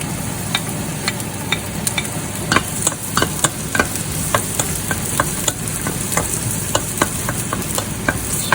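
Onion and garlic sauté in a pan for sinigang, a constant sizzle broken by regular scraping spatula strokes and light clicks against the pan, close and clear with no talking.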